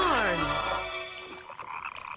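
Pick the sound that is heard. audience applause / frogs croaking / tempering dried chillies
frogs croaking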